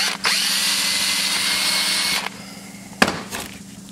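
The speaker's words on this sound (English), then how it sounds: "find a drill bit that fits in there snug and then drill this out" A power drill whines steadily for about two seconds as a 7/64 bit bores out a hole in a Tecumseh carburetor, then stops; a couple of sharp knocks follow.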